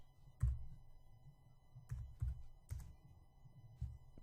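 Keys tapped on a computer keyboard, a handful of separate soft thumps spread out with pauses between them, faint and close in a quiet room.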